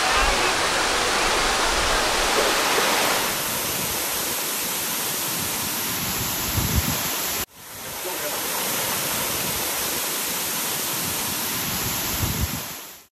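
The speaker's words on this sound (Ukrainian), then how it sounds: "ви завжди можете освіжитися у прохолодних краплинах водоспаду" Waterfall in a park in Nice, France, a dense, steady rushing roar of falling water, loud and close, filling the whole clip with no voices.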